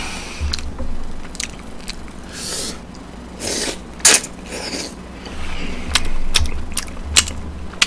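Someone chews cheesy tteokbokki rice cakes close to the microphone, with soft wet bites and several sharper crunchy or squelchy bursts spread irregularly over a quiet background.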